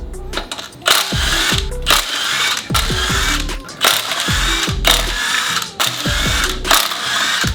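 Impact wrench zapping off the clutch and flywheel bolts on a Subaru WRX/STI EJ20/EJ25 engine: a series of loud, close rattling bursts, each ending in a short spin-down, repeated steadily over a busy shop background.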